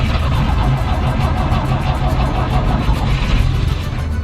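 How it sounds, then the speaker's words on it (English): A vintage van's engine runs steadily on a frosty morning cold start, a loud, dense mid-range rumble that holds level throughout with a faint regular pulsing, no voices. "I'm going to do a cold start"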